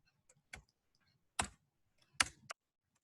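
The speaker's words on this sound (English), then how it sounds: "So I'm just clicking." A computer mouse clicking at a desk: four or five sharp, faint, close clicks at irregular intervals against a quiet room, with no talking.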